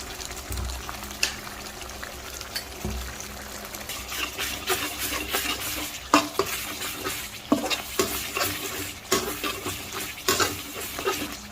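Sauce stirred in a pan while cooking crispy pork, a steady scraping swish with light sizzling and bubbling, sharper utensil clinks and knocks growing busier toward the end, no talking.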